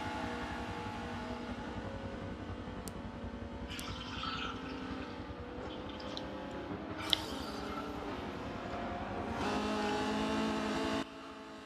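An Alfa and a BMW battle in a vintage DTM race at Suzuka in a racing game, steady engine drone at moderate volume with a brief click and a louder surge of engine noise near the end.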